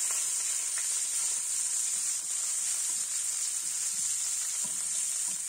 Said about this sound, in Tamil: நல்லா சோம்பு வாசனை வந்ததுக்கப்புறம் வெங்காயமும் கருவேப்பிலையும் ஆட் பண்ணிக்கோங்க.